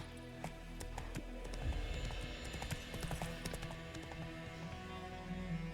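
Steady clip-clop of horse hooves trotting on a hard surface in The Witcher 3, moderately close, with a soft backdrop of ambient game music.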